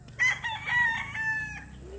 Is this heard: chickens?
yes